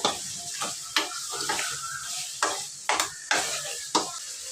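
A spoon stirs curry in a pan on the stove, giving several sharp scraping strokes spread irregularly over a few seconds against a soft, steady sizzle, with no talking.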